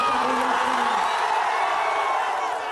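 A dense crowd at a Tejashwi Yadav election rally in Bihar roars steadily, a continuous wash of cheering and whoops that holds level throughout with no pauses.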